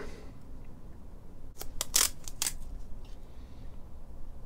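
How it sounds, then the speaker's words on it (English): Masking tape torn off the roll and pressed over a bass guitar fretboard in a workshop: a quiet stretch, then a short cluster of sharp close ripping and crackling bursts, dying away to low room noise. "So I'm going to cover that area with the masking tape from fret slot"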